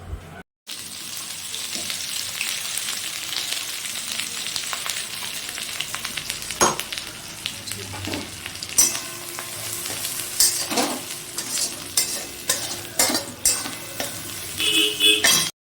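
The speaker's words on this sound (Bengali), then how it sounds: "এরপরে কড়াইতে খুব সামান্য তেল দিয়ে পেস্টটা একটু নাড়াচাড়া করে নেব" Spice paste for a shrimp bharta sizzles in a small amount of oil in a wok. Steady frying hiss mixes with repeated scraping stirs that get louder and more frequent toward the end.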